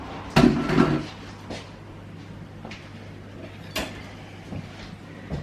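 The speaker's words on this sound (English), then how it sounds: "put my grater in the sink" A metal cheese grater set down in a kitchen sink with a sharp clattering clank, followed by a few lighter knocks and scrapes of kitchen items against a low steady hum.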